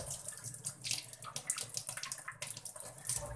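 Water sloshing inside a water can with soda and salt as it is shaken, a close, irregular run of splashy bursts with no voices.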